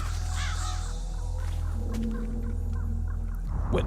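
In the video game Metal Gear Solid: The Twin Snakes, a flock of crows caws repeatedly in harsh, overlapping calls over a low, constant background hum.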